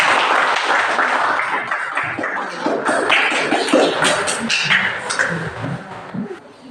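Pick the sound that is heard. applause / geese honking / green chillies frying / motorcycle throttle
applause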